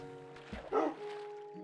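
A Minecraft wolf gives a single short bark with a brief yip, fairly close and moderately loud, set against a quiet steady game background hum.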